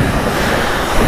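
A high-pressure water jet sprays a motorcycle at a self-service wash in Japan, making a loud, steady, broadband hiss and roar with no pauses.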